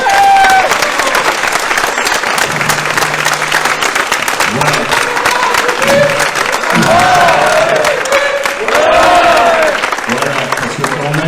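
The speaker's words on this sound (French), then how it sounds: "vous vous êtes pas assez applaudi assez fort" Festival audience at LudiNord 2022 claps for the volunteers in a steady, loud wave of applause, with someone speaking over it intermittently.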